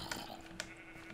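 A sheep bleating in the Minecraft video game, two short close bleats within about a second over a quiet game background.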